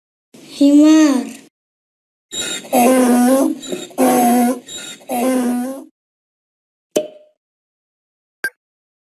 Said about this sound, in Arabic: حمار